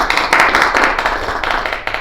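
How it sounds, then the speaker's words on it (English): A small team at a bargaining meeting claps for itself, a short burst of a few people's hands clapping close by, uneven and somewhat scattered, tapering off within two seconds. "Round of applause for ourselves"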